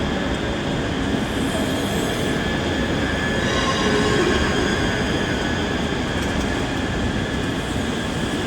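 A Class 385 electric train arrives at Glasgow Central station, its wheels squealing loudly and steadily over a constant rumbling roll, close by with no talk.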